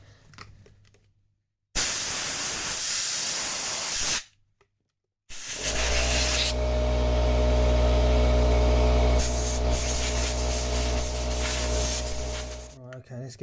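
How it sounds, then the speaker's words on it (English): An air compressor nozzle blasting through the fan motor bushings of a Vito W639, loud hissing bursts: a short blast, a pause, then a longer sustained blast with a low rumble. "I'm going to give it a blast through with the compressor."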